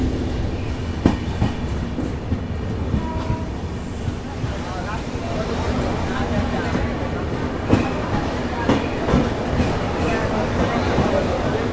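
Steady rumble and rhythmic wheel clatter of the Satyagraha Express, a daily Delhi–Bihar train, heard from inside an AC 3rd class coach, with occasional louder clacks and faint voices in the background.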